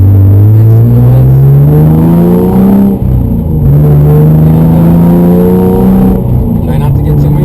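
A race car engine revving hard while driving, loud and close, its droning pitch climbing steadily, dipping at a shift near the midpoint, then rising again.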